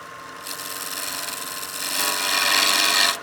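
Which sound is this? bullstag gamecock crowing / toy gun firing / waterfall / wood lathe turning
wood lathe turning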